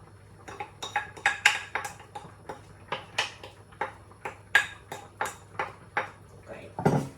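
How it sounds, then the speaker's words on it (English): Maggi noodles being mixed in a pan, with a utensil clinking and scraping against the metal in a steady series of sharp taps, fairly close. "make sure that you mix it"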